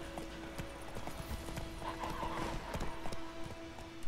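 Steady clip-clop of horse hooves in an even walking rhythm in the video game The Witcher 3: Wild Hunt, with a faint tonal hum beneath and brief soft whinny-like sounds midway.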